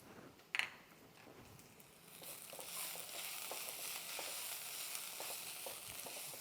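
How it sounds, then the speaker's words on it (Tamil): Ground masala with nungu (palm fruit) sizzling in a pan on low heat, a steady soft frying hiss after a brief clink of stirring at the start. "சிம்மில் வச்சுட்டு நல்லா அதை வந்து ஃப்ரை பண்ணிக்கலாம்"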